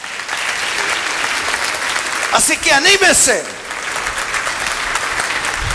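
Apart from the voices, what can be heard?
audience applause in church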